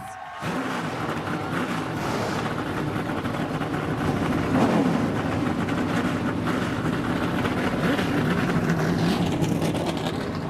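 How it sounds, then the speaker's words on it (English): ARCA Menard Series stock car engines at Charlotte starting up and idling together, a loud, dense, continuous rumble and roar that kicks in after a brief quiet moment and holds steady throughout, with no speech. "Drivers, start your engines!"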